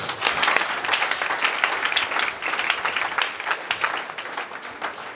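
A church congregation applauds steadily during a French-language worship service at a night gathering, dense clapping continuing loud and unbroken throughout.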